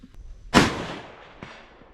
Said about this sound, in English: I will be shooting the 130 grain hollows at 200 yards